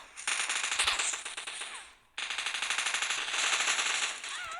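Rapid bursts of automatic gunfire in PUBG Mobile, loud and continuous with a brief pause midway, the shots rattling in tight repeated volleys with no talking.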